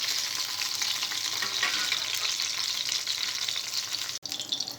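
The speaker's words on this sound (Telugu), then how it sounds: "పచ్చిమిరపకాయలు ఫ్రై అయిన తర్వాత వీటిని వేరొక ప్లేట్లోకి తీసుకోవాలి." Green chillies frying in a pan, a dense, close crackling sizzle holding steady throughout, briefly cut near the end, with no talking.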